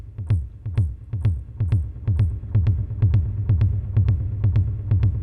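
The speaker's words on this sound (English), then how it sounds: "use our arrows to get into the effects for the bass drum. Let's add more delay." A punchy electronic kick drum from a Korg drumlogue drum machine pulses in a steady rhythm, each hit trailed by echoing delay repeats that blur into the next beat.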